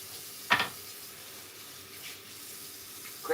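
A quick rinse under a running tap at a sink, two short bursts of water about three seconds apart, near and fairly faint against a quiet room.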